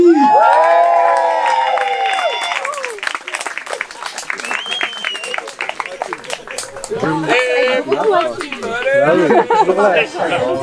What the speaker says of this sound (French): Et pour mon frère Steven, on applaudit.